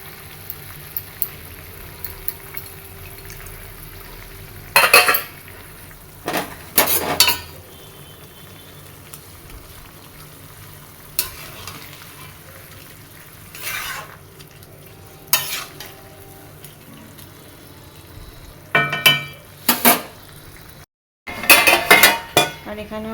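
Metal utensils clink and scrape against pots and plates while prawn and fish dishes are served, in scattered bursts of clatter over a quiet kitchen background with no talk.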